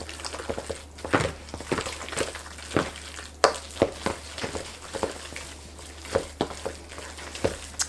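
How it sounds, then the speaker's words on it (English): Sweet potato pie filling with molasses and vanilla being stirred together: repeated soft, uneven scraping and wet sloshing strokes, close and moderately loud, running through the whole stretch without talk. "I'm going to stir this all together."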